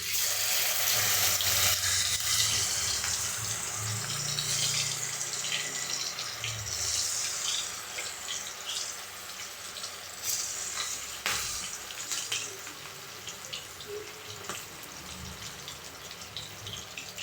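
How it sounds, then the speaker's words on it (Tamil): Chicken 65 pieces deep fry in hot oil with a continuous, dense bubbling crackle that holds steady throughout at moderate loudness. "இப்போ நல்லா ஃப்ரை ஆகட்டும் ஒரு 5 மினிட்ஸு."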